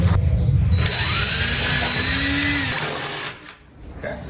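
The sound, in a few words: drill driving screws into outhouse wood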